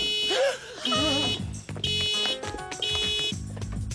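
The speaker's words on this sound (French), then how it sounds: "c'est votre voiture, l'alarme s'est déclenchée." A car alarm blares in a repeating electronic pattern of shifting tones and pulsing beeps, loud and continuous, with a voice briefly audible in the scene.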